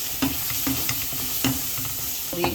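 Spice paste for a pabda fish curry being stirred and fried in oil, a steady sizzle broken by regular spatula scrapes and taps against the pan, close and moderately loud.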